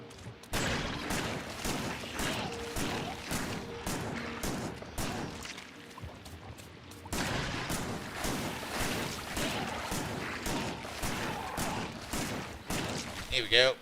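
Automated turrets in Factorio fire at small aircraft in rapid repeating bursts, a steady chatter of shots that pauses briefly midway and then resumes, moderately loud and continuous.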